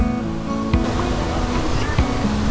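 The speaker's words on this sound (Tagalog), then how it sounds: "Ang tag dito, Kubli Falls." Kubli Falls in Dolores, Quezon roars as a steady rushing wash of falling water close by, with brief faint voices and a few small knocks over it.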